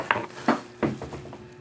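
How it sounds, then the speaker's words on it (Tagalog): A drinking glass falls in a home kitchen, giving several sharp clinks and knocks spaced over a second or so, close by and fairly clear, with faint clattering afterward. "Nahulog pa yung baso."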